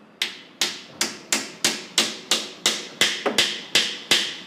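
Hollow-sounding marble floor tiles in a newly finished flat are struck about a dozen times in a steady rhythm, each sharp close tap followed by a short ringing decay, with no talking.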